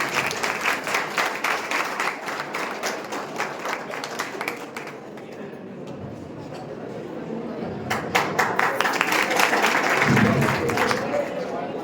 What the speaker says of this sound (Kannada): ಎಲ್ಲರೂ ಚಪ್ಪಾಳೆಯನ್ನು ಕೊಡಬೇಕಾಗಿ ವಿನಂತಿ